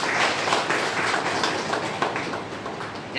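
An audience at a Hindu gathering in Tirupati applauds in a dense, steady patter of many hands, moderately distant and fairly even over a few seconds.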